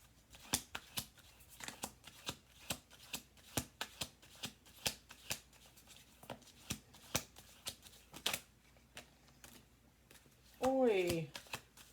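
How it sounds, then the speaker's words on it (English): Tarot cards are shuffled in quick, regular riffles and taps, close and crisp, in a quiet room; a short voice breaks in at the end. "1 more shuffle"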